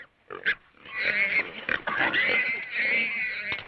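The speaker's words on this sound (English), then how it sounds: "I got Clem's hog!" A hog squeals loudly and continuously at close range in a TV western, its shrill cries broken by a few short snorts.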